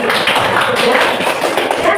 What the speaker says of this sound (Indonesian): Tepuk tangan untuk kelompok Pandi